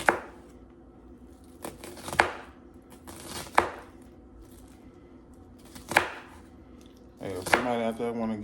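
Knife chopping an onion into dice on a cutting board, with a handful of sharp, separate chops spread out in uneven rhythm, close and clear, and a short burst of rapid cuts near the end.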